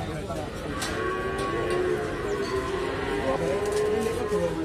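Limousin cattle with curly coats moo in a long, low, drawn-out call that carries over a busy outdoor cattle market with steady background murmur.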